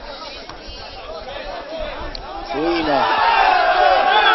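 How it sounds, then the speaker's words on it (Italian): A small group of Paolana football fans at the Mario Tedesco stadium chant and shout, swelling louder toward the end, beneath a commentator's voice. "tanto i tifosi della Paolana pochi ma si fanno sentire qui al Mario Tedesco."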